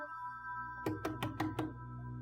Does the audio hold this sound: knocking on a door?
yes